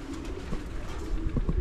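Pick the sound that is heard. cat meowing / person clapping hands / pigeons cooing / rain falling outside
pigeons cooing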